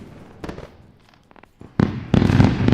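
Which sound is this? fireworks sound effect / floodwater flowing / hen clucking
fireworks sound effect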